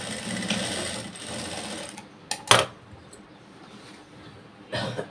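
Sewing machine stitching blouse fabric, with a rough-cut 1.5-inch core piece placed on top, runs in a steady, close, moderately loud whir through the first two seconds, then brief clicks and short bursts of handling sound follow.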